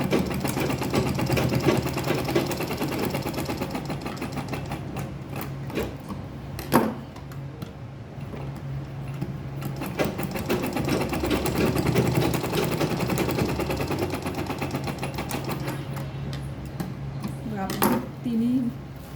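Electric sewing machine stitching a fabric makeup pouch, a steady close mechanical whir running almost continuously with brief pauses and a few small clicks, while someone talks over it.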